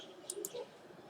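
Computer mouse clicked while working in simulation software, two or three faint, quick clicks close together in a quiet room.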